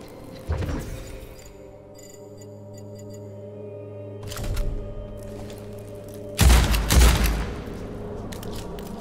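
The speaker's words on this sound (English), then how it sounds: "A high damage explodey shotgun?" Explosive high-damage shotgun blasts in the dark fantasy shooter Witchfire, three loud booming shots spaced a few seconds apart, the last the heaviest, each trailing off over a steady low in-game hum.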